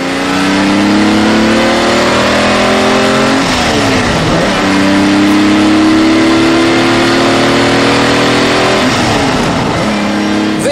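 A Lamborghini Miura supercar engine revs hard and loud, the pitch climbing in long sweeps, dropping briefly, then climbing again as the car accelerates.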